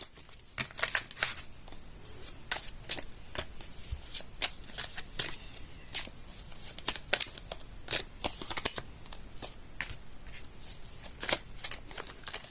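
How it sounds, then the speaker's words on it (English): A tarot deck is shuffled by hand in quick, repeated riffling and crisp card-slapping bursts, close and fairly quiet, with no talking. "your cards seems like stubborn. Doesn't want to get shuffled."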